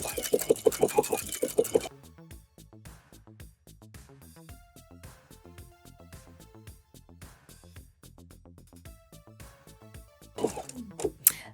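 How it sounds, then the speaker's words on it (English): A regular sewing machine fitted with an echo quilting foot stitches free motion embroidery, with a quiet, rapid run of mechanical ticks and taps in bursts, framed by louder handling noise at the start and end. "we just did it with a regular sewing machine"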